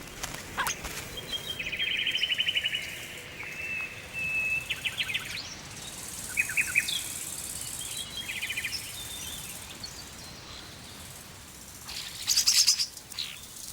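Starlings give scattered bursts of chirps and whistles, fairly faint and well spaced over a soft, steady insect-like hiss, with no voices.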